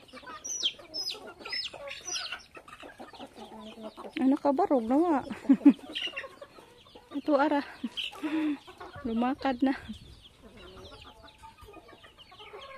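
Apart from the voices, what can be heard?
chickens clucking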